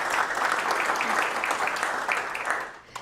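A crowd at an awards announcement applauds the Diversity, Equity, and Inclusion Award finalists, a dense, steady wash of clapping that holds for about three seconds before starting to fade.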